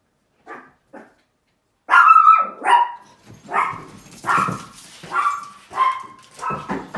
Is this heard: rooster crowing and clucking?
no